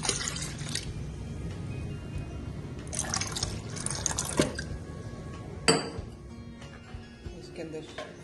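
Milk pours into a coffee shake mixture in a container, a trickling, splashing liquid sound with a few sharp clinks of glass or a utensil, heard under a person speaking.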